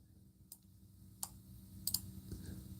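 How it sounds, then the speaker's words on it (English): Faint, sparse clicks of typing on a computer keyboard: a few isolated key taps spaced irregularly over a low background hum, quiet and close. "I'm going to type it in and make sure you're ready. I'm typing in the next prompt."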